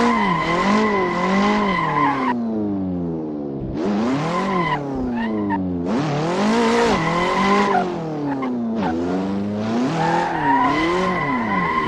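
A KTM X-Bow track car slides through drifts in the Assetto Corsa racing game, engine revving up and down in repeated surges as tire squeal runs underneath, close and loud.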